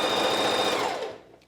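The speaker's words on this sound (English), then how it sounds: "We are just sewing this gap closed" A sewing machine stitches a gap closed over an elastic channel in a t-shirt, running in a fast, even whir up close, then winding down and stopping, with no talking.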